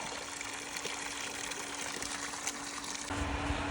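Continuous rushing and trickling of water pumped steadily from a well nearby, with a faint mechanical pump hum underneath and a slight surge near the end.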